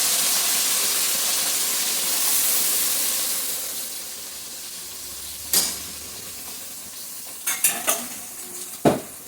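Mustard paste with sugar and some water added to fish frying in a pan, heard as a loud hiss and sizzle that fades, then a few sharp clinks and stirring scrapes near the end.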